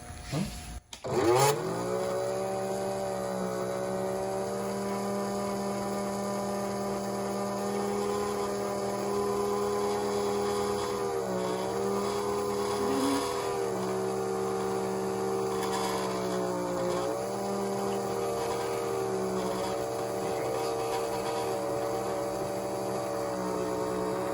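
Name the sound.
Lionel toy train log loader accessory rolling logs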